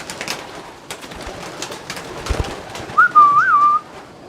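Pigeons in a Danish fancier's pigeon loft, with one short warbling, cooing call rising near the end over a soft, busy room background.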